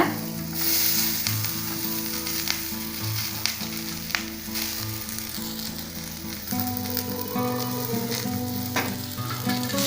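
Fresh curry leaves fry in a hot pan with a steady, crackling sizzle, close and prominent, with occasional stirring scrapes and some music underneath.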